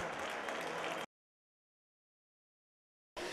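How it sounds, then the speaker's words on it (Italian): A whole football stadium applauds after a 1-0 match result. The loud, dense crowd clapping cuts off abruptly into a stretch of silence, then the clapping resumes. "applaudito dallo stadio intero"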